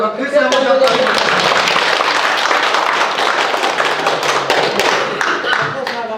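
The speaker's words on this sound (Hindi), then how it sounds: "उसमें कंजूसी से ताली बजा रहे हैं आप लोग" Audience at a training meeting breaks into dense, continuous clapping that fills the room, loud and steady, with voices mixed in underneath.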